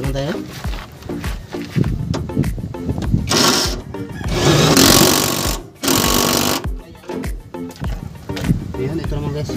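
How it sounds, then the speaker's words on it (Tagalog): An impact wrench working on a Ford Lynx lateral link bushing, loud rattling bursts of hammering separated by short pauses, with someone talking between bursts. "gamitan natin ang impact wrench para mas mabilis"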